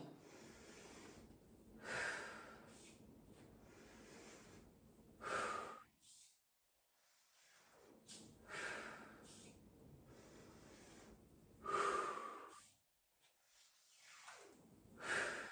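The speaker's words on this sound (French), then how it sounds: "On ne retient pas sa respiration." Heavy, forceful breathing during a Pilates wall workout: several loud, close exhalations and sharp intakes of air come in bursts, separated by near-silent pauses, with no speech.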